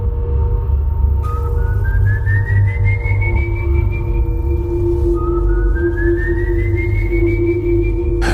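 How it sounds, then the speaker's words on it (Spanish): Long eerie whistles glide slowly upward in pitch, two drawn-out sweeps over a steady low rumble and a sustained hum. "Desde esa noche comenzó el silbido. Ese sonido largo, eterno, como un lamento que atraviesa los siglos."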